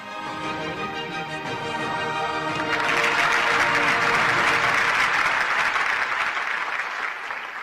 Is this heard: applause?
yes